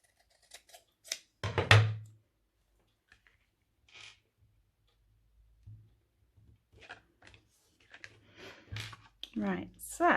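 Scissors trimming paper while making a mini book and case: a few short crisp snips close by, mixed with handling sounds, and a person talks in between.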